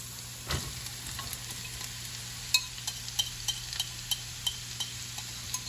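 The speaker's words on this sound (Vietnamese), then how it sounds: "Bạn thấy hành tím bắt đầu nó săn lại thì bạn đổ cái củ sắn này vô, mình xào củ sắn này ha." Shredded jicama stir-fried with shallots in olive oil sizzles steadily in a pan, with a series of light clinking strikes as it is tossed and stirred, close and alone without talk.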